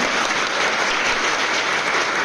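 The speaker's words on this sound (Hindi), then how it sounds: "जोरदार ताली बजाएं" Audience applause at a Jain community program held at the Chhindwara district jail: dense, steady clapping from many hands that fills the whole moment without a break, with no voices over it.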